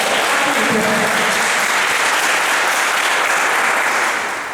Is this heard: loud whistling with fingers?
no